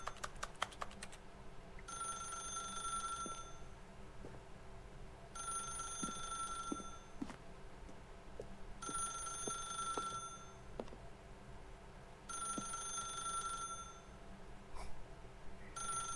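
An old-style telephone rings in The Stanley Parable video game, four evenly spaced bell rings of about two seconds each, fairly loud and close, over a low room hum with no talking.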